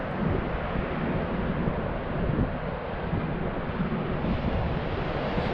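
Strong wind buffeting a drone's microphone during a high-wind flight, a loud, continuous roaring rumble that fills the whole clip without a break.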